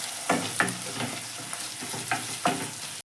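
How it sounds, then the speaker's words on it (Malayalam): Chopped tomato and green chili stirred into frying onions in a pan for beef macaroni, a continuous close sizzle broken by several scraping, clacking strokes of a spoon at an uneven rhythm. "നമുക്ക് അതിലോട്ട് തക്കാളിയും പച്ചമുളകും അരിഞ്ഞിട്ട് കൊടുക്കാം നമുക്ക് നന്നായി ഇളക്കി കൊടുക്കാം"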